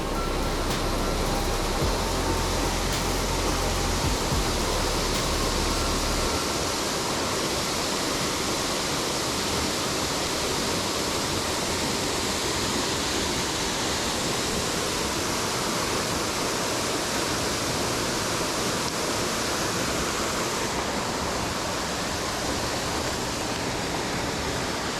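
Waterfall on a creek in the Grampians, a steady loud roar of falling water, dense and unbroken throughout, close to the listener with no voices.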